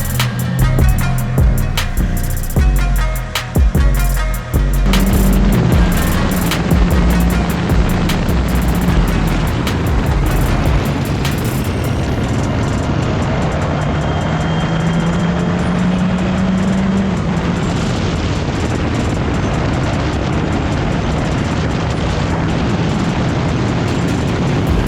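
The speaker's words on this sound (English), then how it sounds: "Alright, so we're done with the Formula 4." A Formula 4 race car at the Red Bull Ring, engine roaring loud and close with rising and falling revs and gear changes, then a sustained harsh drone with heavy wind rush, no talk.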